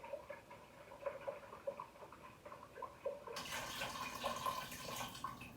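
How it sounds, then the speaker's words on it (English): Chicken stock pours from a cut-open box into a pot, starting as quiet trickles and ticks and then swelling into a steady, louder splashing stream during the final seconds. "we're going to add in our chicken stock. So I cut the box to just make it pour out easier."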